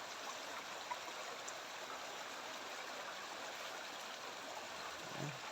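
Stream water in a rural Philippine creek flowing steadily at low level, a constant gentle rushing with no voices and a faint low thump near the end.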